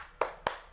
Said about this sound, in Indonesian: Kita kasih tepukan hebat ya Bu ya.